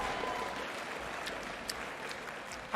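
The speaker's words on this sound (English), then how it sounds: "give it up one more time for the victorious" Audience applauding the victorious Los Ratones team at an esports match, a steady wash of clapping and crowd noise heard from a distance, fairly faint, with no talk over it.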